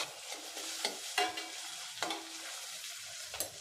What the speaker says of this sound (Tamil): ஒரு 10-15 பல் பூண்டு, அதையும் சேர்த்து நல்லா வதக்கி விட்டுருங்க.